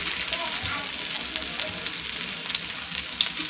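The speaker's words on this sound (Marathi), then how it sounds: "आता आपण तवा फ्राय करून घेऊया. तर आता मी हे फ्राय करून घेते." Four eggplant slices shallow-frying on a hot tawa make a strong, dense crackling sizzle that stays steady and close, with occasional small pops and faint background movement but no speech.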